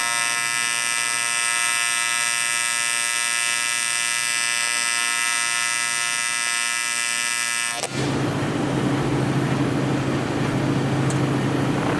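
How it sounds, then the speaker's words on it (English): Welding on a dirty, contaminated aluminum Club Car golf cart frame: a loud, steady electric buzz holds for about eight seconds, then turns into a harsher, crackling hiss over a low hum. No one speaks. "Now I'm just going to weld this out."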